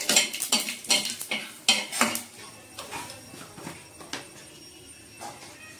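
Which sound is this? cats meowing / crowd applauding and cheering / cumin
cumin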